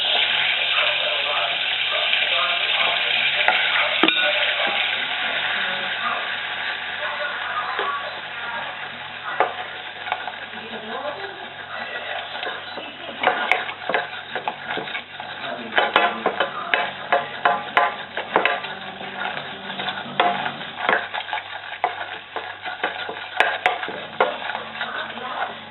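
Flour gets stirred into melted butter in a pan, a continuous sizzle with scraping stirring strokes that become more pronounced and rhythmic later, while someone talks throughout.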